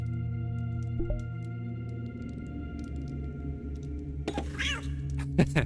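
A cat meows in the game Thief: Deadly Shadows, giving a wavering, drawn-out call near the end over a steady low hum and faint ticking background.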